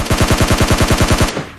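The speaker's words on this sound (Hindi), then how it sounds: "तो भी सामने से एक फायर साउंड हो रहा है।" A rapid, evenly spaced automatic rifle burst in PUBG Mobile Lite, about a dozen loud, close shots in quick succession before cutting off into a brief fading tail.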